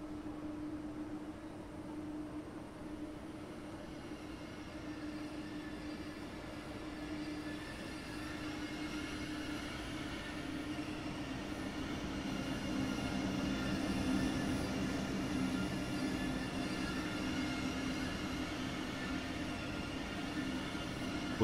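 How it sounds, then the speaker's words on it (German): ICE high-speed train rolling slowly into a station in the railway simulator Train Sim World 3, a steady rumbling rail drone with faint wheel squeal that grows gradually louder as it approaches, no voices. "Da kommt er langsam reingefahren."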